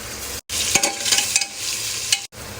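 Onions frying with ginger-garlic paste in a pan for masale bhat, a steady close sizzle with scraping stir strokes and two brief pauses in the frying.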